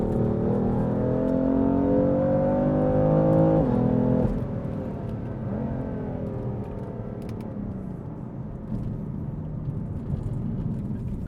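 A BMW F80 M3 engine revs up in a rising, harmonic drone, drops sharply as it shifts, then climbs again under steady road rumble.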